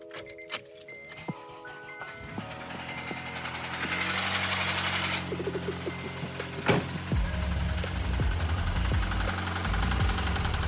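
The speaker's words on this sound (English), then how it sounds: "So there was some loud knocking at first, starting up the car, slightly quieted" A car with a valve lifter ticking problem starts up after an oil additive is poured in, the engine cranking, catching, then running with loud knocking and a rapid ticking rhythm, preceded by faint handling noises.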